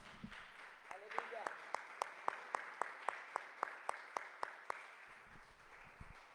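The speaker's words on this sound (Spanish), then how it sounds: "Un aplauso para el Rey." A church congregation clapping in slow, even unison beats, about fifteen sharp claps in a row, fairly faint and roomy, fading out near the end.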